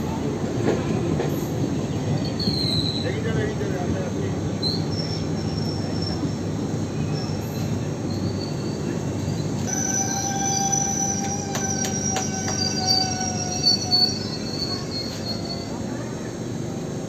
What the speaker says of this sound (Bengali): মল্লারপুর ঢুকলো ট্রেন।